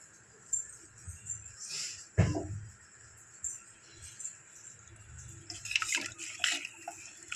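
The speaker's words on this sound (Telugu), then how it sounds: "6 గ్లాసులు వాటర్ పోసాను." Six glasses of water splash and trickle into a cooking pot in short bursts, with a sharp pour near the start and more splashing later, fairly close and moderately quiet.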